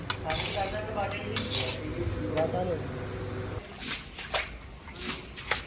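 Carrot halwa being stirred in a hot kadhai, a metal spatula scraping and clinking against the pan in irregular strokes with a soft sizzle beneath, while someone talks over it.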